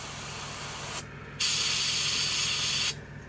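A Gaahleri Airbrush Ace airbrush run from a compressor gives a loud, steady hiss of spray. The hiss stops for a moment, comes back stronger and then cuts off near the end.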